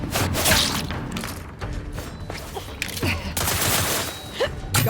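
A wrist-mounted weapon fires in the sci-fi shooter The Outer Worlds 2, a dense rattle of rapid shots and impacts mixed with combat noise, moderately loud and close.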